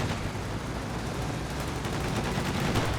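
Sustained dense gunfire from a reaction squad in Company of Heroes 2, a continuous crackling barrage of overlapping shots with distant battle rumble, steady and fairly loud throughout.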